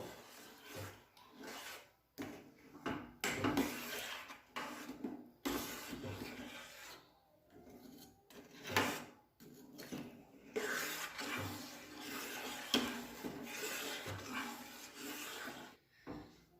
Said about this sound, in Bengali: গুড়টা যতক্ষণ না গলে যাবে ততক্ষণ ভালো করে এটা নাড়াচাড়া করে নেব